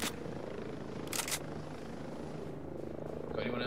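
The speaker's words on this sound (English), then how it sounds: "Let's take the helicopter out first then." Helicopter in Ghost Recon Breakpoint, a steady low rotor drone running throughout with brief bursts of gunfire layered over it.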